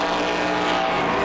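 NASCAR Pinty's Series race cars at the 2018 Rankin 200 roar past on track, a loud, sustained engine drone with a faint tire squeal, close and continuous and free of talk.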